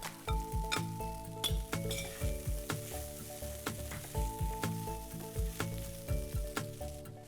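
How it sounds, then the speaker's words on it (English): Lemon rice with turmeric being stir-fried in a pan, a continuous sizzle with a rhythmic series of spatula scrapes and clinks against the pan, close and steady throughout. "And now I'm going to add the lemon infused rice."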